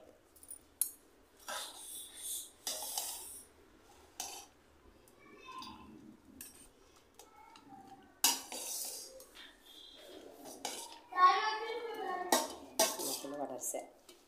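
Spoon scraping and clinking in a metal vessel while sesame tempering is mixed into cooked rice, with intermittent knocks, scrapes and stirring sounds, close and moderately quiet, between brief pauses.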